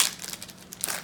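A stack of Score hockey cards is feathered through by hand, a quick close papery riffle of crinkly flicks lasting about a second.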